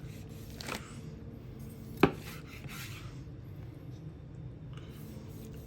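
A knife cuts through smoked, rub-glazed barbecue meat from the point, with soft slicing strokes on a board and one sharp knock near the middle, quiet and close with light room noise.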